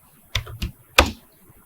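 Three separate keystrokes on a computer keyboard while entering Cisco router commands, close and crisp, the last one the loudest, with quiet pauses between them.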